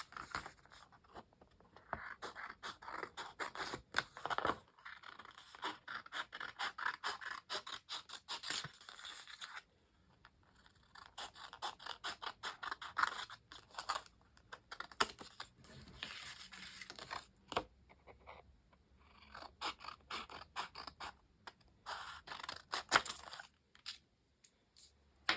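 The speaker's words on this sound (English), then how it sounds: "I'm going to cut these out." Scissors snip and scrape through paper while squares are cut out for a paper rose, sounding as quiet, close, irregular bursts of cutting with short pauses between them.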